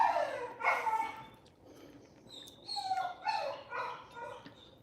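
A dog shut in a cage barks and whimpers in several bursts, fairly close, with yelping yips rising between louder barks and short pauses.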